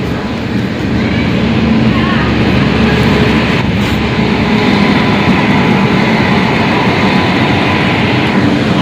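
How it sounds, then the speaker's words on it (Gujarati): A train rumbles in loud and close, a steady heavy roar of wheels and engine that fills the whole stretch without letting up. "ટ્રેન આવી ગઈ."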